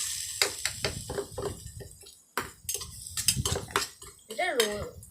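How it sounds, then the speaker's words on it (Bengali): Ginger-garlic paste is stirred in a pan, with irregular metallic scrapes and clinks of a utensil against cookware over a faint sizzle, close and uneven, ending in a brief tonal squeak. "আদা রসুন বাটাটা দিয়ে আমরা ভালো করে একটু নাড়াচাড়া করে নেব"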